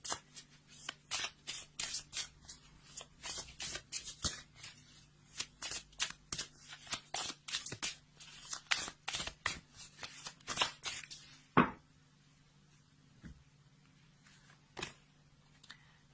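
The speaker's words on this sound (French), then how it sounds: "on va prendre une carte des licornes magiques de Dorine Virtue" A deck of magic unicorn oracle cards being shuffled by hand close up, with repeated quick riffles and flicks in bursts that thin out to a few isolated taps toward the end, with no talking.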